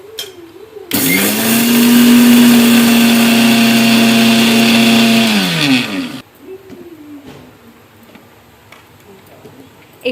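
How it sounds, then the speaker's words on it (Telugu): A kitchen mixer grinder whirs loudly for about five seconds, grinding sesame seeds with a paste, then winds down and stops, leaving a quiet room. "ఇప్పుడు నువ్వులు ఈ పేస్ట్ రెండు కూడా మిక్స్ పట్టి పెడతాం"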